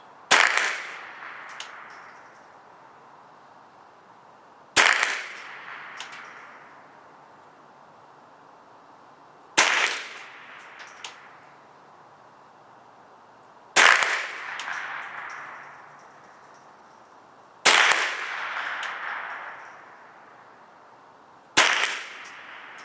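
A Sig 522 rifle fires different rounds, six sharp single shots spaced about four to five seconds apart, each a loud crack followed by a short decaying echo.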